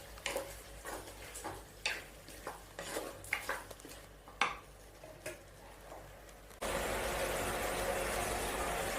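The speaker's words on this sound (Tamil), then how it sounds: "இப்போது 2 நிமிஷம் காய் வந்து நல்லா வதங்கட்டும்." Brinjal and radish pieces are sautéed in a pan with a series of distinct clinks and scrapes from stirring, followed by a steady louder sizzle of frying toward the end.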